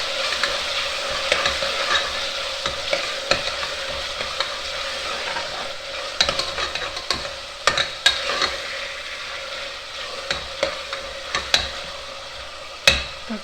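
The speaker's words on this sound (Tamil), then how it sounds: "தக்காளி போட்டு நல்லா வதக்கிக்கோங்க" Tomatoes sautéing in a pan for mutton curry, a dense steady sizzle with frequent sharp scrapes and taps of a ladle stirring against the metal, close-up with no speech.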